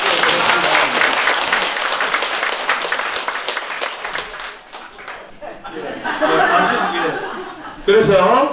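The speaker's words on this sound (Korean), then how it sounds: "다시 한번 감사의 박수를 드리겠습니다." A crowd applauds at a Buddhist book launch ceremony, with dense clapping that fades, then rises again under chatter and light laughter.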